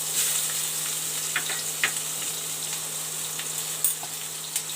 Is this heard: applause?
no